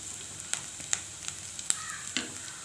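A Thondan chili pickle mixture is sautéed in a pan. A dense, even sizzle runs throughout, broken by sharp spatula taps against the pan every half second or so.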